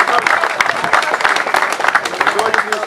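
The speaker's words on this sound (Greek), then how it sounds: "Ένα χειροκρότημα για τον Βασίλη" Crowd applause at the inauguration of a renovated well, sustained dense clapping with people talking over it, close and loud.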